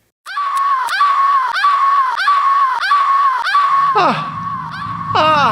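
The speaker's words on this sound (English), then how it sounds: "if you pause in the middle of Lara's death scream, you'll get this" Lara's death scream from a Tomb Raider video game, glitched into a rapid loop, repeats as a loud, shrill, stuttering cry about every third of a second, then breaks into longer falling wails near the end.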